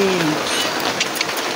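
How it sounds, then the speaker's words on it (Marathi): Rain falls steadily as a broad, even hiss close by, continuous across the whole short stretch. "पावसामध्ये कुठे जाणं आता नाही शक्य"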